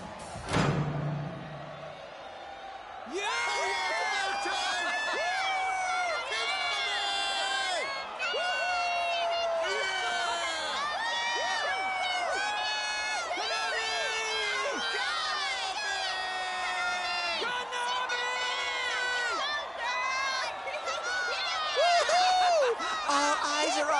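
Virtual crowd at a concert stage in the video game Persona 4 Dancing All Night, a loud continuous mass of cheering and shouting voices that swells in after a brief opening sound and carries on throughout.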